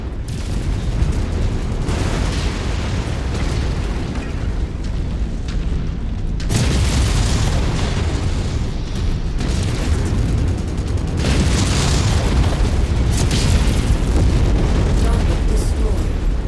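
Loud booming explosions from a destroyed target in a combat flight game, heavy rumbling bursts that swell and recur over a continuous roar of battle noise, with a radio voice talking over it.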